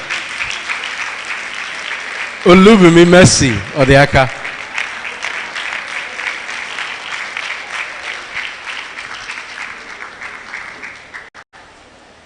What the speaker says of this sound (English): Please clap very well